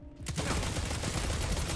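Auto rifle firing in the shooter video game Destiny, a dense, rapid burst of shots starting abruptly and continuing loudly and steadily.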